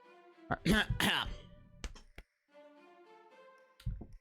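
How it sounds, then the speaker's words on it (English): Someone clears their throat with a couple of rough, close bursts, followed by a short pause and a brief low sound at the end. "Let me just clear my throat."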